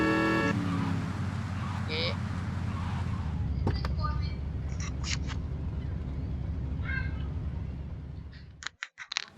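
A car horn blares briefly in the video game GTA Vice City, a short loud blast at the start followed by a steady engine drone and scattered in-game sounds.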